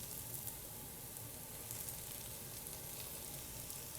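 Potatoes and brisket fry in a pan for a barbecue brisket hash, making a steady, even sizzle and crackle. The sound stays at a moderate level throughout, with no talking.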